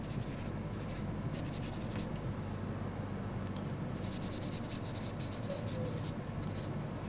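A yellow colouring medium is rubbed onto a drawing in quick, close scratchy strokes that come in short bursts over a soft steady hiss, with no talk.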